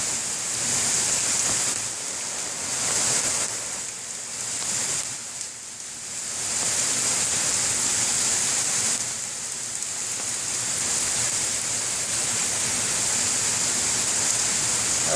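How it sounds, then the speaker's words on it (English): Steady rain falls in the woods, a dense hiss that stays loud and continuous with slight swells, and no voices are heard. "enjoy the rain."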